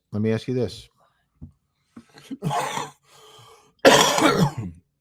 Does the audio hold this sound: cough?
yes